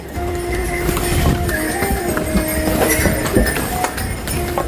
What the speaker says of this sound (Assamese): এই ঘোঁৰা আহি গ'ল